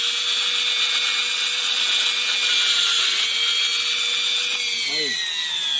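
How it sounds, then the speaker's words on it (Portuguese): Loud, steady whine of an electric drill with a 10 mm bit boring into a wooden log, running continuously close by before its pitch drops and slows near the end. "com a furadeira, uma broca 10, você vai furar o tronco."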